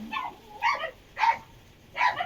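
A dog barks three times at a moderate distance, short sharp yelps spaced about half a second apart over a quiet background.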